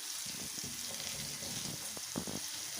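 Ginger and cumin spice paste for a Bengali rui fish kalia frying in a pan, giving a faint steady sizzle with a few soft stirring scrapes and clicks, heard close and quiet with no talking.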